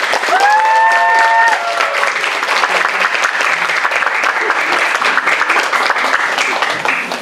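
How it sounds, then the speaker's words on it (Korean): An audience at a career talk concert claps warmly to welcome a guest speaker, dense clapping filling the room; a brief tonal musical phrase rings out at the start over the applause. "여러분들 뜨거운 박수 부탁드립니다"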